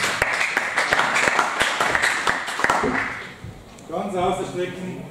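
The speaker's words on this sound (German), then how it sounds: "Applaus." Applause rings out at a women's wrestling championship in the 59 kg class, a burst of quick overlapping claps for about three seconds that fades before a voice starts talking.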